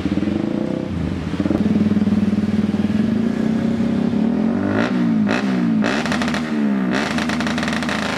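Honda CBR K45 motorcycle on launch control holding a steady, loud high-rpm rev at a 10,000 rpm limit, with buzzing limiter stutter and brief throttle blips near the end.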